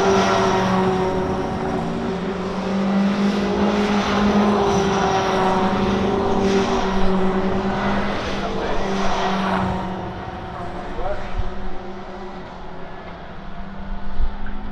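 Pack of BTCC touring cars streaming past at Oulton Park, a loud sustained roar of several engines overlapping and fading, with a commentator talking over it.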